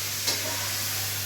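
Fritters and cauliflower fry in a pan at home, giving a steady soft sizzle with faint stirring and a low background hum, without talk.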